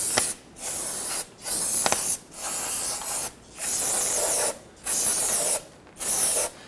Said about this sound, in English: spray that down with some spray solvent to wipe off any of that residual oil